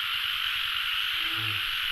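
Frogs croak during the year's first rain, a fast rhythmic pulsing chorus under a steady bright hiss of rain or insects, with a louder nearby croak near the end.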